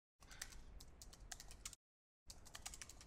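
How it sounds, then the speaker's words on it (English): Quick typing on a computer keyboard, a close, rapid run of light key clicks that pauses briefly and then resumes. "I'll just type it quickly."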